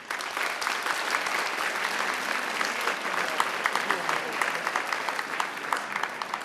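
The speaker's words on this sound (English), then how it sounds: "Give them a round of applause." School assembly audience applauding their teachers, loud continuous clapping from a large crowd in a hall, steady and dense for several seconds.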